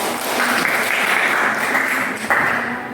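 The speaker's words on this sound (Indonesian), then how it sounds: "Tepuk tangan buat kita." Loud, steady applause from a group in a classroom, continuous clapping throughout with a brief dip near the end.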